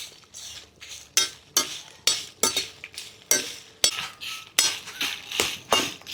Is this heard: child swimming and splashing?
no